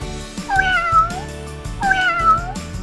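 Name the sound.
cat meowing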